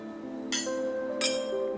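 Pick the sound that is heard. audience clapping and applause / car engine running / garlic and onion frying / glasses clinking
glasses clinking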